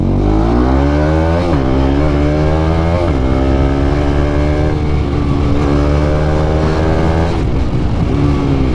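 A Bajaj Pulsar NS 200 motorcycle engine brakes while downshifting, its loud, close exhaust drone steady and throaty, with the pitch jumping at each gear change and then sliding down as the revs fall.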